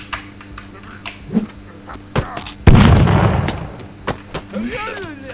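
Sharp pops and a big booming blast midway, with scattered bursts before and after, explosions in Totally Accurate Battle Simulator heard through speakers.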